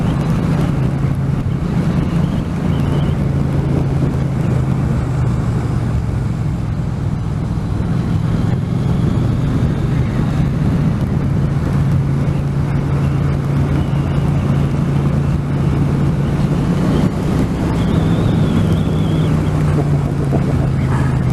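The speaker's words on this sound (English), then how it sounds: "I'm hoping you can hear this engine and the exhaust on here" Triumph Street Cup 900 motorcycle with its standard exhaust, idling and revving in a steady, deep engine drone that stays loud and continuous, with some wind noise on the microphone.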